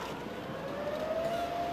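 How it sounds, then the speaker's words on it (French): A siren wails in Miyako during the tsunami, a thin steady tone that rises slowly in pitch, sounding over a loud rumbling wash of water and wind. "Les sirènes retentissent à Miyako, mais il est trop tard."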